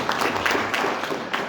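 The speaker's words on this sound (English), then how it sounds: "Let's give me a round of applause." An audience at a Ministry of Environment, Climate and Wildlife stakeholder consultation claps in a short, fairly close round of applause, dense and uneven, with no talking.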